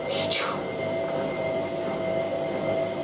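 A Hotpoint 9530W Electronic 1000 Plus washing machine runs a towel wash with its pump chugging in a continuous low rumble and a steady hum, and a brief whooshing burst near the start.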